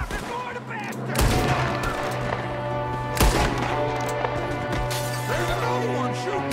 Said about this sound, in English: There's another one shooting through the window!